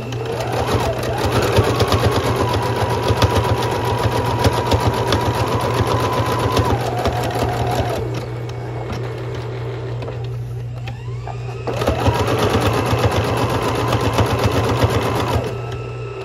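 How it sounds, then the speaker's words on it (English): A sewing machine stitches a fabric piece onto a folk doll on stitch number 4, a loud, close, steady mechanical whirring hum that runs for several seconds, pauses briefly, then starts up again. "Sew this piece on here. Alright. Using stitch number 4."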